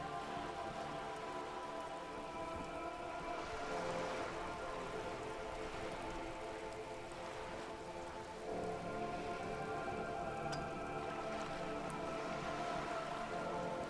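Steady rain falls and patters on surfaces in the video game Disco Elysium, a continuous, even wash of drops throughout with no voices.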